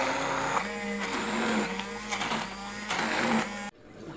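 An electric blender whirs loudly and continuously, mashing rice with milk, its motor pitch wavering slightly as the contents churn, then cutting off abruptly near the end.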